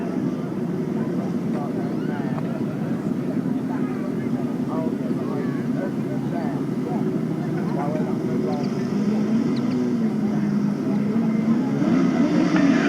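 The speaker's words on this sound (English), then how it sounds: "So revving up over on that far side, Paul Whitelam making a good start." Grasstrack racing motorcycles rev at the start of a 2014 British Masters qualifier race, a distant engine drone that rises toward the end, heard under a commentator's talk.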